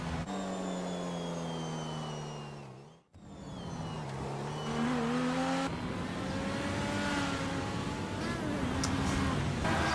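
A Progen sports car in GTA 5 roars at racing speed, its engine pitch sweeping up and down through gear changes, with a brief dip mid-run before climbing louder and harder again.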